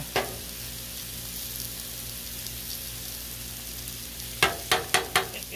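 Kielbasa sausage fries and chars on a Blackstone flat-top griddle with pierogis, giving a steady close hiss with a few sharp pops and crackles near the end.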